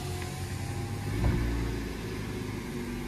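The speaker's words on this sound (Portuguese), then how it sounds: "como é o barulho do motor do Mobi" A Fiat Mobi Like 1.0 2023 car engine runs at a steady low hum throughout, with a brief swell in level around the middle, heard fairly close with no talking.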